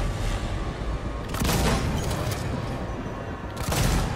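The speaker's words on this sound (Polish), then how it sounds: "Na nich dwa strzały." Gunshots in the video game Alien: Isolation on PS4, two sharp heavy blasts about two seconds apart, each with a burst of crackling decay, over a constant rumbling in-game background.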